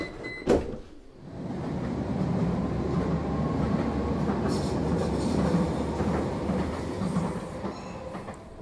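A Vienna Stadtbahn train at Handelskai station rolls past close by, a loud steady rumble with rattling wheels that holds throughout, opening with a sharp clack.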